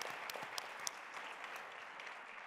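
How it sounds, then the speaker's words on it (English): A conference audience applauds after a panel of women executives, a dense, even patter of clapping hands from a moderate-sized crowd, with no talk over it. "Please give these ladies a round of applause for sharing their insights and reflections today."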